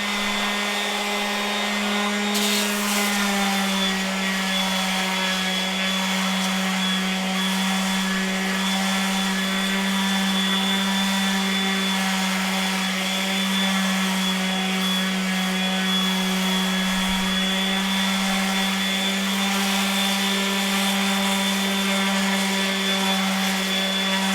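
A sanding tool works the ends of wooden snowshoe frames, giving a continuous, even motor whine with a steady hum beneath it that holds unchanged throughout, with no voices.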